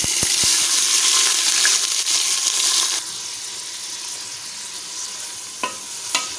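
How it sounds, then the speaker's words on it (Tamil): Three large sliced onions frying in coconut oil and ghee in a pressure cooker, a steady close sizzle with occasional stirring scrapes, louder at first and then settling lower, no talking. "நான் மூணு வெங்காயம் ஆட் பண்ணி வணக்கிட்டுருக்கேன்"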